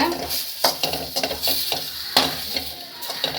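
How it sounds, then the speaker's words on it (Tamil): Spice masala fries in a little extra oil over a low flame for a Hogenakkal-style fish curry, a steady close sizzle broken by repeated scraping stirs of a spoon against the pan. "சிம்மில் வச்சு இந்த மசாலா வந்து நல்லா வறுத்து எடுத்துக்கோங்க"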